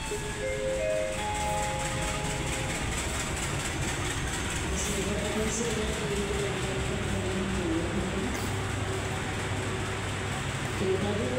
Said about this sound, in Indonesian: kereta api Parahyangan baru saja datang ya, memasuki jalur 1 stasiun Gambir